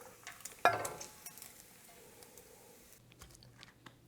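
Bacon fried in a pan for croutons, with a sharp clatter as pieces are lifted out, then a soft, steady sizzle that fades as the heat goes off; no talking.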